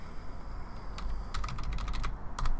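Someone types on a computer keyboard while writing code: a quiet start gives way to bursts of rapid, close key clicks.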